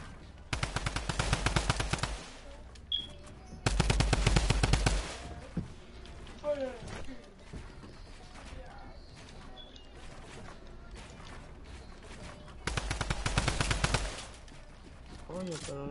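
Bursts of rapid automatic gunfire come in three loud volleys of roughly one to two seconds each, with quieter shuffling, rustling and faint voices between them.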